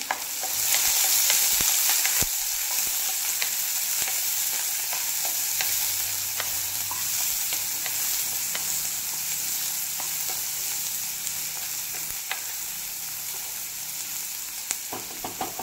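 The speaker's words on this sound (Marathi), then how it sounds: "आणि कांदा तेल टाकलं आहे तिथे। आता हे सगळं व्यवस्थित मिक्स करून घ्यायचं आहे आपल्याला" Chopped onion with cumin and curry leaves sizzling steadily in hot oil, with a spoon scraping and stirring the pan in scattered knocks over the continuous frying hiss, up close and with no talking.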